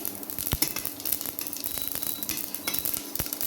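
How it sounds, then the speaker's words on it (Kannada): Cumin seeds sizzling in hot oil with asafoetida for a green gram rasam, a steady close crackle with sharp spits and pops throughout, nobody speaking. "ಇಂಗು ಕರಗಿದ ಮೇಲೆ ಇದಕ್ಕೇ ನಾನು ಜೀರಿಗೆನ ಹಾಕೋತೀನಿ."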